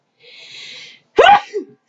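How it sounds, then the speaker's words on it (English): A single loud, sharp sneeze bursts out close to the microphone after a brief inhaled buildup, followed by a short trailing exhale, with silence around it. "Wait, hear me sneeze."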